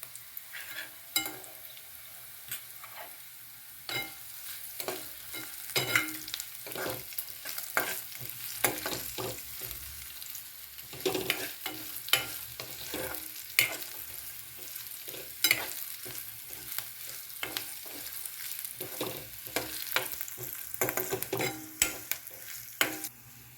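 Grated coconut and peanuts, with turmeric, fry in spiced oil for a sweet-sour panchamrut tempering. A soft continuous sizzle runs throughout, broken by frequent scraping stirs of a spoon in the pan, with no talk.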